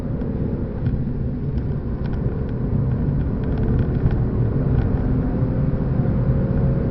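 Genesis track taxi car driving on the Nürburgring Nordschleife toward Geldenkopf, the last corner, on a drying track: a steady, loud in-cabin engine and road roar with constant rumble and no pauses.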